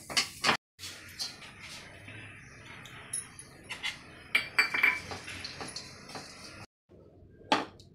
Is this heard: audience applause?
no